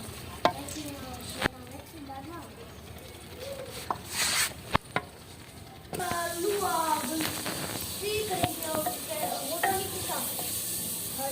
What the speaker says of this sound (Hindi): अब हम इसमें जो है ना प्याज और टमाटर इसमें हम डालेंगे।